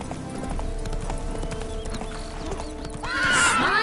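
Roach, the horse in The Witcher 3, clops along in rhythmic hoofbeats over low game ambience, then gives a loud, close whinny at the end.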